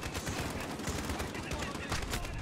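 Rapid gunfire from the video game Call of Duty Modern Warfare, played in campaign realism mode: dense, overlapping bursts of shots that crackle steadily through the whole stretch at a loud, even level.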